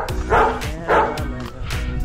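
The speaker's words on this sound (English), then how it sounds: "Oh, that's a pretty dog." A dog barks a few times in quick succession, close and fairly loud, with faint background voices around the barks.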